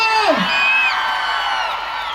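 An excited crowd cheers and whoops steadily, with rising shouts and a few whistles above a continuous wash of noise.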